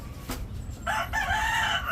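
A chicken calls out nearby, a short burst of raspy clucking over quiet background noise.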